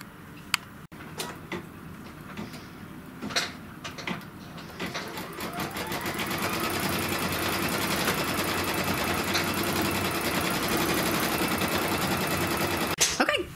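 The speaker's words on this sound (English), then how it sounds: "and then start sewing." A quilting sewing machine stitches an edge-to-edge quilt design. It starts with a few soft taps and clicks, then settles into a loud, steady mechanical hum and rapid stitching that continues to the end.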